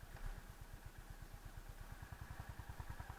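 A Honda CB350 motorcycle engine runs at low speed, an even, rapid thumping exhaust beat that holds steady and close throughout.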